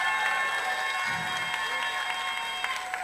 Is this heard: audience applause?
yes